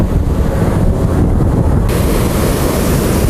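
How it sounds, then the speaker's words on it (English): Ocean surf on an east central Florida beach a day after Hurricane Michelle, heavy waves eroding the shore, a loud continuous roar mixed with strong wind buffeting the microphone. "the waves are just coming right up, causing lots of beach erosion."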